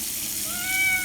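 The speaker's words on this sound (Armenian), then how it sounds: "կատու է" A cat gives a single rising meow late in the brief span, fairly close and clear over a hissy background, with no talking.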